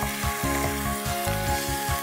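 Minced meat hits a pan of frying onions and sizzles loudly and steadily, with a few soft stirring scrapes and no talking.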